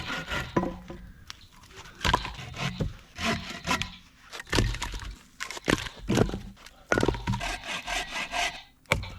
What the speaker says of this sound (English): Now I need to chop up some firewood.